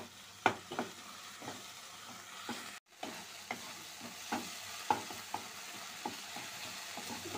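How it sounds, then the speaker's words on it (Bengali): Masala spice paste frying in oil for an egg and potato curry while a spoon stirs it, a soft steady sizzle broken by regular scraping clicks of the spoon against the pan, close and fairly quiet. "ভালো করে নাড়াচাড়া দেবো যতক্ষণ না মশলাটা কষিয়ে সুন্দরভাবে তেল ছেড়ে দেয়"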